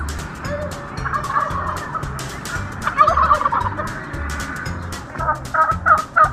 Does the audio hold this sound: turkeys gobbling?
yes